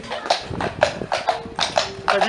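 Horse hooves clip-clop in a steady, regular rhythm as a horse pulls a carriage on a short ride in Puyméras, the footfalls fairly close and clear.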